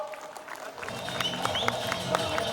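An audience at a gathering claps for Bala sir, with scattered sharp hand claps building into steady applause while voices murmur and talk in the room.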